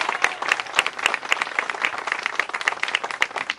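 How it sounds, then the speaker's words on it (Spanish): Applause for a works committee at a street-paving ceremony, a steady burst of many hands clapping close by, with sharp individual claps standing out throughout. "así es que darles un aplauso al Comité de Obra"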